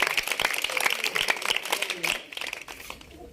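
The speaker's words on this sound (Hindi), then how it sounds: "तालियां बजाओ" A village crowd claps for a tenth-grade student medal winner, the clapping dense and fairly close, mixed with voices and fading toward the end.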